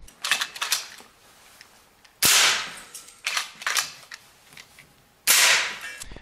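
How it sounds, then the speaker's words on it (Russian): A PCP air rifle with a biathlon-style lever fires two sharp, loud shots several seconds apart, each followed by clacking reload and trigger mechanism clicks at close range, with no talking. "после каждого выстрела вы перезаряжаете и нажимаете на спуск"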